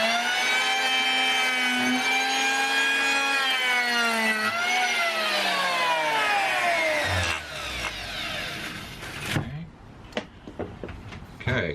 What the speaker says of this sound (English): grab hold of our planer